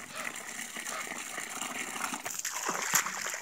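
Water is poured into an old duck feeding bowl, a close, continuous splashing and trickling that swells toward the end.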